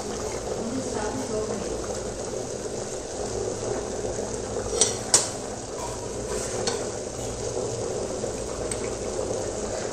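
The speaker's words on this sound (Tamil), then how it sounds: "ஸோ அப்போ வந்து கொஞ்சம் நல்லா வெந்துடும், ஏன்னா ரொம்ப பொங்கி வரும் அதனால்" Rice bubbling in a 3-in-1 rice steamer with its lid left slightly open, giving a steady, close simmering hiss with a couple of faint clicks near the middle.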